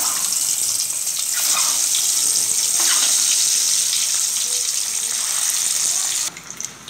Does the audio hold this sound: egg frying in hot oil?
yes